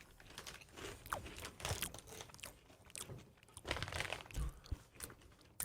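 Flamin' hot cheese chips crunched up close, a steady run of crisp, crackly bites and chewing with no talk over it.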